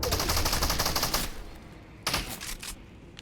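Video game gun fight with rapid automatic gunfire in dense bursts, a long loud burst followed by a pause and a second shorter volley.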